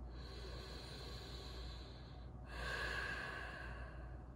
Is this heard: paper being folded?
no